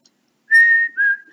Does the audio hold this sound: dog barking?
no